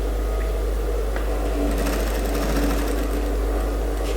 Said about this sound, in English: now I am sewing with a normal stitch regulator, not fast, not slow, just a normal stitches length.